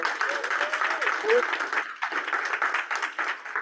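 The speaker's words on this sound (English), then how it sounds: "Let's give Shanique a round of applause, guys" An audience applauds in a steady, moderately loud wash of clapping that carries on throughout with little change.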